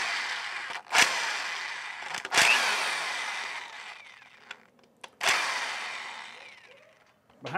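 A power tool spins out bolts from the small four-bolt cover plate of a Carrier 06D/06E compressor oil pump in a few short, loud bursts that fade between, with quieter clicks and handling noises.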